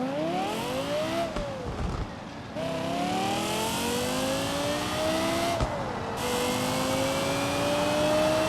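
An Aston Martin Vulcan's engine in BeamNG.drive revs loudly and close up, climbing through rising pitch sweeps with brief dips at gear shifts, then holding a high steady howl.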